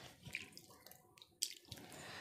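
Water is poured and drips into a bowl of pakoda flour as a batter is mixed, giving soft splashes and a few sharp drips. The sound is close but faint, with no talk.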